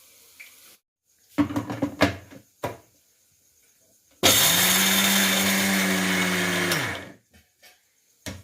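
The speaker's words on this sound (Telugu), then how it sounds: "మిక్సీ పట్టుకున్నాం." A kitchen mixer grinder blends peanuts in one loud, steady whir lasting about three seconds, preceded by a few knocks and clatters as the jar is handled, then quiet.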